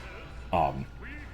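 A single short, bright quack from the Duck Hunt duck in Super Smash Bros. for 3DS, rising over a quiet game background, followed by a softer chirpy tone.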